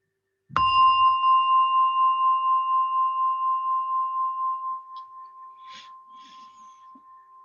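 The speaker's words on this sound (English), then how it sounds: "as I hit the gong, the sound of a gong will lead you to practice meditation." A meditation gong or bowl is struck once, a bright metallic strike blooming into a long, pure ringing tone that slowly fades and pulses over several seconds, with faint rustling near the end.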